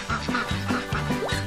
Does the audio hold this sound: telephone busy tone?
no